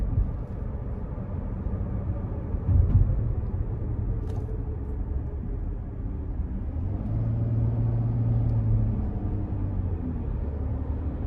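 A 2020 Dodge Grand Caravan SE V6 van cruises steadily, heard from inside the cabin as a low, even engine and road rumble with a slight rise in drone partway through. No one speaks.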